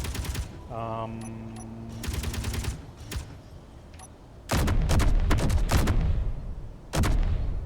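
An autocannon firing in the Space Engineers game during its warfare update: loud rapid bursts of heavy shots, one short volley early, then two long sustained barrages near and dominant, with brief mechanical tones between.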